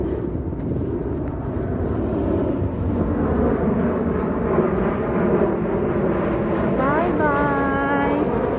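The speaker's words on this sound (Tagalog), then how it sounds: "Hanggang tingin na lang kami sa eroplano." An airplane passes overhead near Shinwoldong Park lake in Seoul, a loud continuous low engine roar that holds steady across the clip, with faint voices and a rising whine toward the end.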